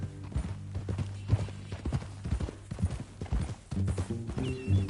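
Steady clip-clop of horse hooves in the video game Red Dead, a regular trotting rhythm over a low droning tonal background, fairly close and clear.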